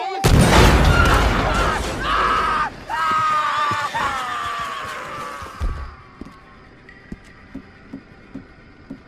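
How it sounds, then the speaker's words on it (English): A loud, deep cannon boom with a sharp attack opens in Red Dead Redemption 2, followed by shrill, noisy game effects that fade into a series of soft, scattered taps. "The boom of a cannon."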